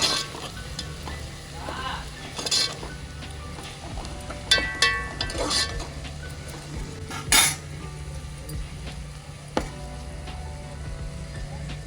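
Mutton is added to a hot pan and fries with a sizzle under repeated clinks and scrapes of a metal spoon against the pan, close and moderately loud, with a few sharper knocks.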